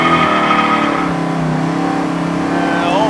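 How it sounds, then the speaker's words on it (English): A 468 big-block car engine, backed by a three-speed TH400 automatic, revs loudly and is feathered so the exhaust note rises and falls, a steady close rumble with a voice briefly audible over it. "you're going to hear like the difference in note from the exhaust"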